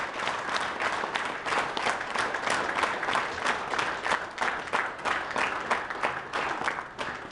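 A hall audience at a veterans' commemorative evening applauds in a steady, dense wash of clapping that becomes rhythmic in places and continues for several seconds with no speech.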